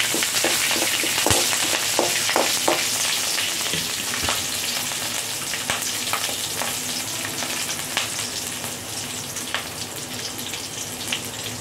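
Green chillies fry in hot oil for a potato masala served with poori, a steady close sizzle with frequent popping crackles and spatters spread evenly across the stretch, without any voices.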